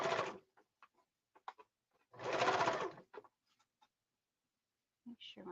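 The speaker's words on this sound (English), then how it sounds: "I'm taking my time pulling the threads out so the machine will cut them off." A home sewing machine runs in two short bursts, stitching and then trimming threads, with faint clicks and taps between the runs and a brief voice near the end.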